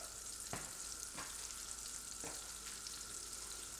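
Onions sauté in a skillet with a steady, hissing sizzle, while a utensil stirs through them in three soft scraping strokes, close up and with no talking.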